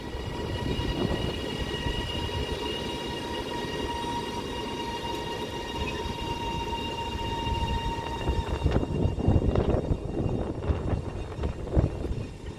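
A Northern passenger train rumbles steadily with a faint tonal whine, then clatters and rattles more heavily toward the end as it rolls in and slows to terminate at Manchester Airport station.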